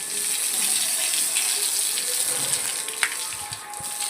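Water gushes steadily from a tap or hose while a cow is bathed outdoors, a loud continuous splashing flow close by with small knocks near the end.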